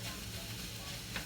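Onions fry in a pan, browning toward golden with a soft, continuous sizzle, faint and steady with no talk over it.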